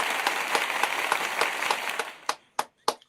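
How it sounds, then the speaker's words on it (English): Audience applause for a guest arriving on a morning show, a dense clapping burst that fades out into a few last separate claps. "Detectives, give our sister a round of applause."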